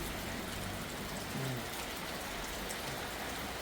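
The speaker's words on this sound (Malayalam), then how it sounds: "അടുത്ത് നല്ല മഴയുണ്ട് കേട്ടോ." Heavy rain pours down outdoors in a steady, even hiss of drops drumming on surfaces, unbroken throughout, with no one talking.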